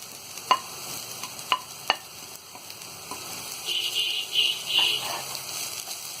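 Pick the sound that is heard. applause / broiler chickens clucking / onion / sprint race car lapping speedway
onion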